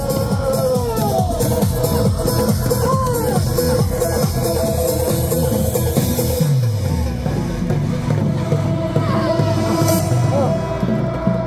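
A large crowd at an outdoor political rally near Jonggak Station in Seoul on March 1, 2023, protesting alleged election fraud, shouts together in a sustained, loud, overlapping roar of many voices that fills the whole stretch without letting up.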